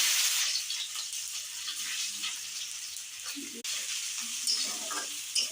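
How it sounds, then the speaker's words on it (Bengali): Chopped onions fry in mustard oil with bay leaves and dried chillies, making a continuous crackling sizzle close by. Occasional stirring scrapes sound over it throughout. "পেঁয়াজটা একটু লাল লাল ভাজা হয়ে গেলে"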